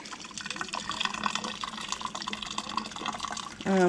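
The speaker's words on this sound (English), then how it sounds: "So you just pour in your tea." Tea trickling and splashing steadily into a teapot, then a brief louder gurgling pour at the end, with faint background noise.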